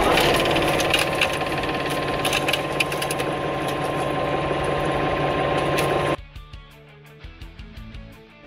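The engine of a maple sap pump, fitted with a new cooling system, runs with a steady, loud mechanical hum for about six seconds, then cuts off abruptly, leaving a few faint clicks and knocks.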